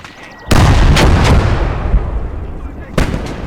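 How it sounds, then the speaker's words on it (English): Enemy mortar shells burst in the World War II game Gates of Hell: one loud, close blast with a long rumbling tail, followed by sharper distant impacts and a second heavy hit near the end. "Oh, they have a mortar somewhere."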